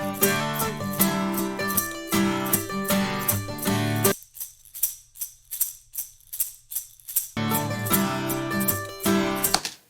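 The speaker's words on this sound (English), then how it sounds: "Okay, so now we're going to record a shaker" A shaker rattles in a steady rhythmic pattern, first over backing music, then alone in a quieter stretch before the music returns.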